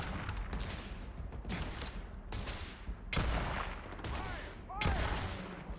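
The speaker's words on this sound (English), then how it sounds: "And I think this is the gun you get for doing the Ranger quest line." Gunfire from the Ranger quest gun in Starfield, which fires poison bullets: a run of separate sharp shots spaced unevenly across the moment, fairly close, with faint background noise between them.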